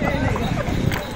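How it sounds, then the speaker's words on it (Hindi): Horse-drawn tamtam cart at a tourist spot in Rajgir, Nalanda, with steady hoof clip-clop and rolling clatter under continuous close talking. "यहाँ टमटम से हम लोग आनंद ले रहे हैं"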